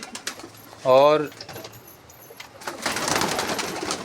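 A pigeon in a home loft gives one loud, wavering coo near the start. Brief speech and scattered rustling come before it, then a steady hiss of background noise.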